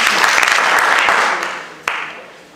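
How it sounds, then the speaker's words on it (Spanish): Loud, dense clapping from a lecture audience greeting Dr. Juan José Sánchez Sosa at a conference swells, then tapers off, ending with one sharp lone clap. "les pediría un aplauso para recibir al doctor Juan José Sánchez"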